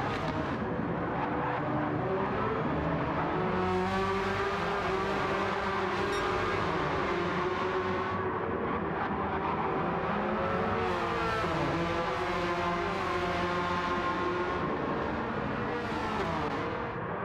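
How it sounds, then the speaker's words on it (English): Porsche Cup race cars at Laguna Seca thunder side by side down the front straight, a steady loud engine roar that swells and fades as the cars pass, with no talk over it. "They're side by side as they thunder down the front straightaway."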